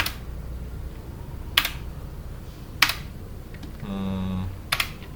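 Computer keyboard keys and mouse clicks while working on a computer: a few sharp, isolated clicks spaced about a second apart, close and fairly quiet, with a brief tonal hum partway through.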